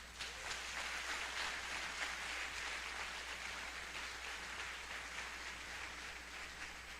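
A church congregation applauds together, a steady wash of many hands clapping heard at a distance and fairly faint, continuous for several seconds over a low hum.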